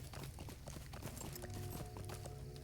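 A trail horse in Lord of the Rings Online clip-clops at a steady walking rhythm, its hooves a quiet, even patter over soft ambient game sound.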